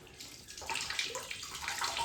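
Cold tap water runs into a bathtub for a child's bath, a continuous close splashing rush that grows steadily louder with no voices over it.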